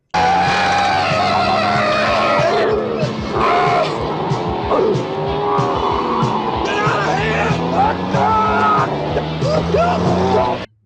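Tires squealing and skidding during a car stunt scene in The Toxic Avenger, loud and continuous with engine noise, shrill squeals sliding up and down over about ten seconds, mixed with film music and effects.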